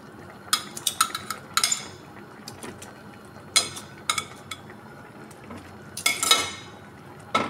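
Fried milkfish being stirred in a creamy sauce in a pan, with clattering utensil scrapes and clinks arriving in irregular bursts over a low background hum.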